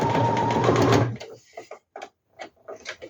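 Sewing machine stitching a geometric-print fabric bag, a fast steady whir for about a second before stopping, followed by someone talking quietly.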